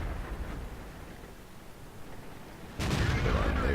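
A tank cannon fires in a World of Tanks style game featuring the AT-7 tank destroyer. After a low rumbling battle ambience, a single heavy, loud boom lands near the end and carries a dense rolling tail.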